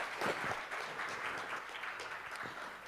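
An audience at a Java conference talk claps in steady, dense applause that carries through the whole moment at a moderate, slightly distant level.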